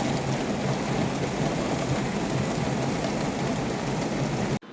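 Heavy, steady downpour roars without a break, a dense wash of rain close by with a low rumble beneath that may be thunder, cutting off abruptly at the end.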